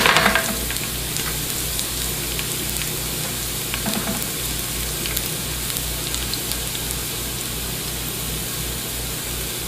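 Garlic sizzling in olive oil in a medium-high pan, a steady crackling fry with a brief louder spatter at the start, close and continuous with no voices.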